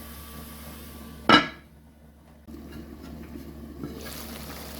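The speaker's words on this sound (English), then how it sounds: "Adding my Irish to the pot." Peeled Irish potatoes dropped into a cooking pot for Jamaican curry chicken back land with a single sharp, fairly loud clunk and splash, followed by quieter kitchen background noise.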